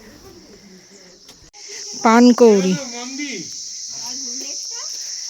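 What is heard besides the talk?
crickets chirping near a lake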